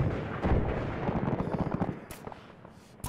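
Rumbling booms and distant gunfire in the Arma game mission Tanoa Invade and Annex, a dense roll of shots fading into quieter sharp cracks toward the end.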